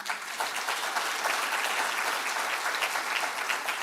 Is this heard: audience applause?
yes